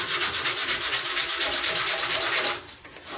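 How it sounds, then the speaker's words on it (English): Sandpaper rubs by hand along the back of a wooden spoon in quick, regular back-and-forth strokes, a close, loud, rhythmic rasp that stops near the end. "The back side of the spoon here, I just sand it like this."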